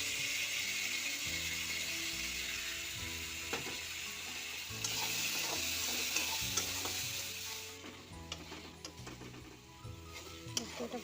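Ground spice paste sautéed and stirred in a pan for soybean korma, a moderate sizzle with scraping stirs and faint knocks, quieter and sparser toward the end.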